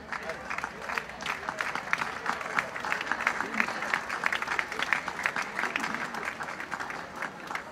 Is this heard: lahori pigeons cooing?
no